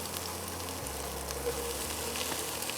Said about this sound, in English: I'm adding the onion, ginger,